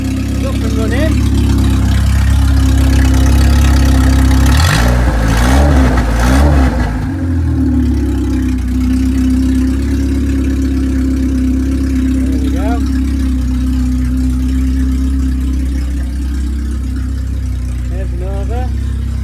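Vauxhall Cavalier mk2 convertible engine idling with no exhaust fitted, a loud, rough, steady drone running throughout, with a brief rev burst around five seconds and someone talking over it.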